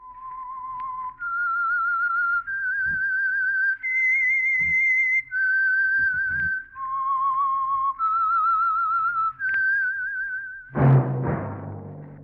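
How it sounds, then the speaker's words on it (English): A single person whistles a slow, clear melody of held notes, alone and close, ending with a sudden brief burst of noise; the theme signal of the 1947 radio program The Whistler. "That whistle is your signal for the Signal Oil program, The Whistler."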